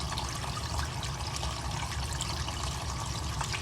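Water runs continuously from a leak inside a house, a faint, steady rushing flow with no breaks and no one speaking.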